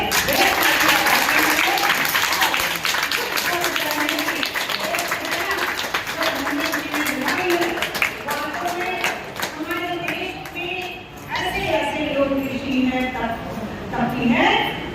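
An audience at a birthday tribute applauds steadily for about fifteen seconds, the dense clapping sustained throughout while voices and a speaker's talk carry on over it.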